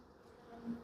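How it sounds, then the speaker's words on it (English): Honeybees buzz in a low, faint hum as they are shaken off a honey frame from a hive box, the drone swelling slightly near the end. "So I'm going to shake the bees off this one"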